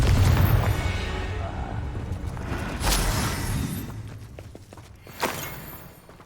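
Confringo blasting-spell explosions in Hogwarts Legacy: two sharp, fairly faint bursts a couple of seconds apart rising over low rumbling ambience, with spoken voices around them.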